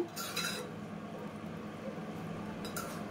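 A spoon clinks against a pot as cut tomato pieces are stirred into simmering dal, two short bursts of metallic scraping and clinking separated by a quiet stretch of low kitchen hum.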